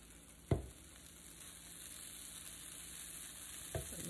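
Bread toasting on a griddle beside onions, a steady faint sizzle with two brief bumps or scrapes near the start and end, no talk.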